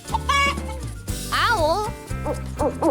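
Chicken clucks in a children's animal-sounds lesson sit over a steady musical backing, several short rising-and-falling calls in quick bursts, loud and close.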